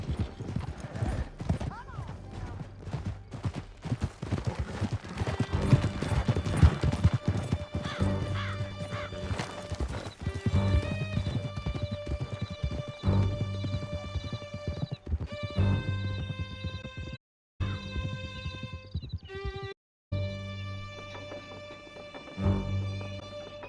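Horses galloping in Red Dead Redemption 2, a fast clattering run of hoofbeats with a horse neighing, under shouting voices and music, then calmer trotting with brief gaps.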